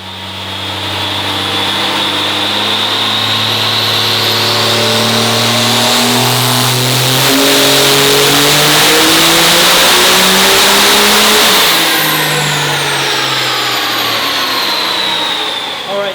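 A tuned car engine revs hard on a dyno, its pitch climbing steadily to a loud sustained peak before dropping back, with a high whine and whistle over the roar and no talk.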